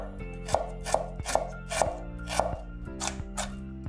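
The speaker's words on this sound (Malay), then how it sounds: "2 batang serai, hiris nipis." A knife thinly slices two lemongrass stalks on a cutting board, giving about seven crisp, evenly spaced chops up close.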